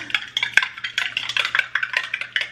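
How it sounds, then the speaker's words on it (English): Spoon stirring a yellow-orange drink mixture in a cup, rapid rhythmic clinking and scraping close by, steady throughout with no talk. "And I have to stir it really good."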